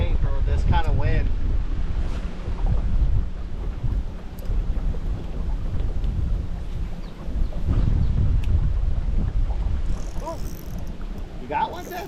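Heavy wind buffets the microphone on a fishing boat during an Everglades bass trip, a loud continuous low roar with gusts throughout, and voices are faintly heard under it.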